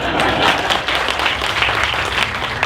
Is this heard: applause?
yes